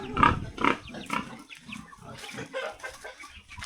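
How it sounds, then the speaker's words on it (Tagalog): Pigs on a farm let out several loud, short grunts and squeals near the start, then quieter snorts, with hens clucking in the background. "Baboy dito."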